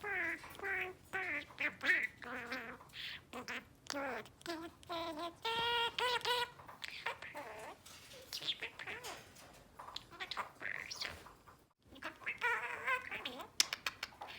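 A female pet budgie chatters and warbles in quick squeaky bursts, close and fairly quiet, while a person talks to her softly between the calls.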